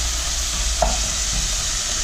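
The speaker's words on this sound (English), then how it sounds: "we'll let that saute for a few minutes until it's a little bit translucent" Vegetables sauteing in a pan for lasagna, a constant close hiss of sizzling with one brief clink of a utensil partway through.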